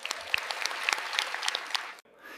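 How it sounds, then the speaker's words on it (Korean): A crowd of hands applauding in a congratulatory burst, dense and steady for about two seconds before cutting off abruptly. "자, 박수!"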